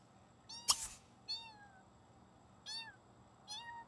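A cat in The Sims 3 meows three times in short, clear calls spaced over a few seconds, with a sharp click or tap early on and a quiet background.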